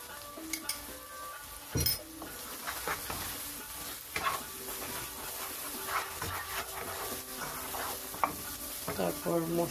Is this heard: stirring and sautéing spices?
yes